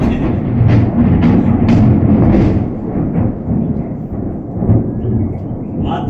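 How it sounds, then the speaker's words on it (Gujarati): Thunder rolls through an unseasonal downpour over a village in Porbandar district, a loud deep rumble that swells and fades in waves, with rain and wind noise underneath. "વીજળીનો અવાજ છે આ"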